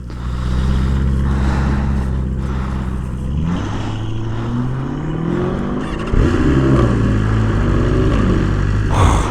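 A wide body Lamborghini Urus engine revs and climbs through rising pitch sweeps, loud and close, shifting and building again partway through with no talking over it.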